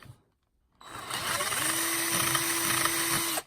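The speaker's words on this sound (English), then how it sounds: "Let's go ahead and drill this out." A power drill starts after a brief silence and runs steadily, a loud whirring grind with a sustained whine, drilling out a hole for a front sight on an AR-9 rifle, then cuts off at the end.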